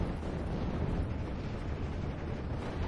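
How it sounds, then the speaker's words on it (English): Continuous dense rumble of an artillery barrage in Steel Division 44, a heavy low roar of overlapping explosions filling the whole stretch at steady loudness, with no distinct single blasts. "Barrage coming forward."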